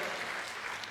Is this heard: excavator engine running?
no